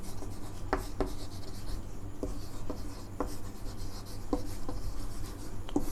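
Marker or chalk strokes on a board forming a capital M, heard as a few short scratchy taps and rubs spaced across a few seconds over a steady low background hum.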